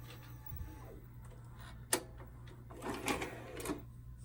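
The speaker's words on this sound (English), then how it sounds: "And when you eject the tape, it'll do that." A 1992 Shintom VCR450 VHS VCR ejects a tape, giving a faint mechanical whir with small clicks and one sharp clack close by in a quiet room.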